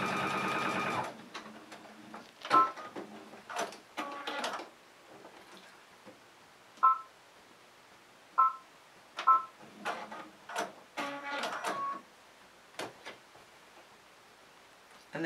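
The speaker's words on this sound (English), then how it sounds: "I'm just going to sew this together quickly." A sewing machine joins quilt fabric pieces in several short bursts of rapid mechanical stitching, close and fairly quiet, separated by pauses and soft handling noises, with no talking.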